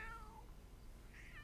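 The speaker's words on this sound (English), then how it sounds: "I think your cat wants to come in" A pet cat meows outside a door, wanting to be let in: two short, fairly faint mews about a second apart over a steady low background hum.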